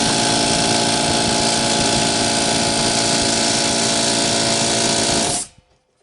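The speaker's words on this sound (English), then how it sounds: "now we have a working compressor again" A repaired air compressor runs with a loud, steady motor drone and pump hum for about five seconds, then cuts off abruptly into near silence.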